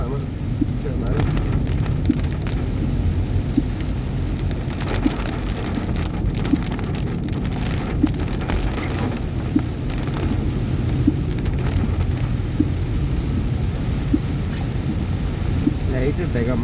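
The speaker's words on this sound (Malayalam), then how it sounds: "രാവിലെ നല്ല മഴയാണ്." Heavy July morning rain pours down in a dense, unbroken hiss on surfaces, steady and loud from start to finish, with faint scattered drips and distant rumbles beneath.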